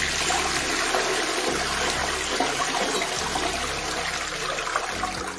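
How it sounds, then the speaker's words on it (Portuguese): A toilet flushes in a continuous rushing surge of water that runs loud and close throughout, with gurgling and trickling. "Vamos dar descarga."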